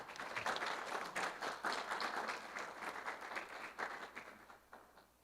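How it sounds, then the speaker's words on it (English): An audience at an awards ceremony gives a full round of applause, with steady, dense clapping from a crowd of people that holds strong for several seconds and then begins to thin out toward the end. "Ladies and gentlemen, a round of applause."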